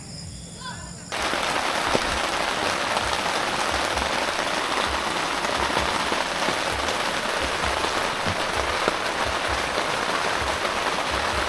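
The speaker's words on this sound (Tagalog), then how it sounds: "Lakas ng ulan." Heavy rain pours steadily at a lakeside campsite in Cavinti, Laguna, a dense loud hiss drumming on surfaces that starts abruptly after a quieter first second and continues unbroken.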